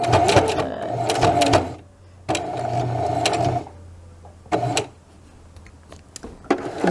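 A sewing machine stitches stretchy fleece fabric for a throw pillow in several short runs of rapid mechanical whirring, close and loud, separated by brief pauses with small clicks.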